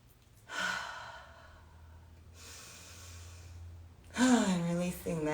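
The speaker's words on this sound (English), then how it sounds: "Take a few deep breaths, allowing your ribs to really open." Deep breaths drawn and let out during a guided shoulder and chest stretch, two long airy inhale-exhale swells at moderate level, followed by a brief voiced sound over a low steady background hum.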